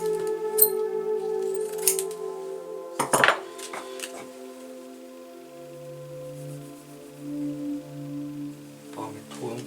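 Epoxy resin mixed with orange and green pigment, heard as soft scraping and clinking of a stirring stick against a container, with a sharp clatter near the start and quiet talk in places.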